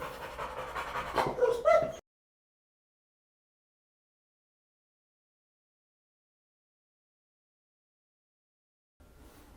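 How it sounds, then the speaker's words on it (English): Smooth coat purebred collie panting close by for about two seconds, quick breathy huffs with a faint whimper, followed by silence. "our next guest today is this beautiful, beautiful smooth coat collie, purebred collie"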